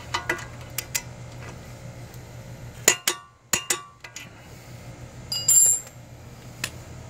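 Torque wrench on bolts during engine and transmission replacement on a 2013-2015 Chevrolet Malibu LT 2.5L, with sharp metallic clicks and clinks in irregular bursts, close and crisp, with a brief ratcheting rasp near the end.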